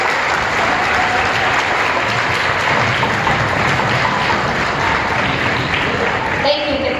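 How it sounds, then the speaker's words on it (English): Applause from a school assembly crowd for fifth grade students at an elementary school, steady and full for the whole stretch, with a few voices mixed into the clapping. "So let's give our 5th grade students a round of applause."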